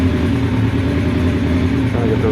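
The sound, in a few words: Honda Nighthawk motorcycle engine warming up after carb reassembly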